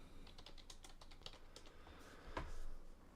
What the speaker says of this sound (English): Where am I typing? Typing in the wrong place.